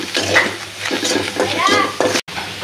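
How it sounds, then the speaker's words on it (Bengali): Shrimp and onion frying in oil in a pan, a close sizzle with stirring scrapes running under a voice, with a brief dropout near the end. "চিংড়ি মাছটা সুন্দর করে ভাজা ভাজা হয়ে গেছে"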